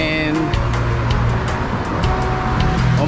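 A bus pulls up at a stop in Cancun with a steady, loud engine rumble and road noise, a faint voice in the background and regular ticking clicks running through it.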